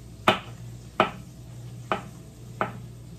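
A knife chops ingredients for homemade spaghetti sauce on a cutting board, landing four separate, distinct thuds at an unhurried, slightly uneven pace against a quiet room.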